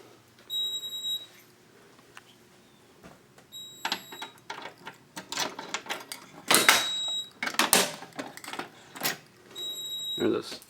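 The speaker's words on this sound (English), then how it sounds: "I will set the smoke detector off for this one," A smoke detector is set off during a fire alarm system test, with short repeated high-pitched beeping tones sounding in bursts amid handling noises and clatter.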